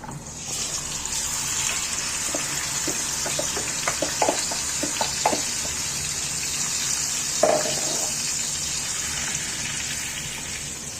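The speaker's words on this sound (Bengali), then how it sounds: "গরম হয়ে গেছে, এবার মাংসটা ঢেলে দিলাম।" Chicken pieces poured into hot oil in a pan sizzle and hiss in a loud, continuous wash, with scattered sharp pops and spatters throughout.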